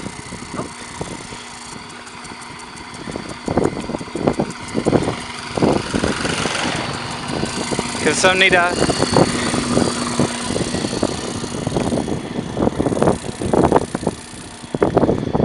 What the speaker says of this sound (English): Lots of trucks and motorbikes come come driving along here